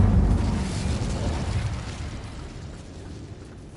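An Incendio fire spell in Hogwarts Legacy sets off a loud, deep explosive burst at the start that rumbles and fades away over a few seconds, with no voices.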